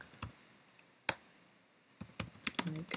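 Keys on a computer keyboard clatter in short bursts while text is entered into an online design tool, sparse isolated taps with pauses giving way to a quicker flurry of clicks at the end, close and fairly quiet with no talk.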